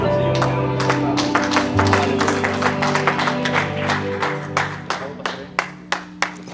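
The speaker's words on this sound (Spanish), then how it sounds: "Ofrenda de palmas, Señor, que no necesitamos." Church congregation clapping as an offering, a dense burst of applause with sustained organ or keyboard tones underneath, thinning out to a few loud, evenly spaced claps at the end.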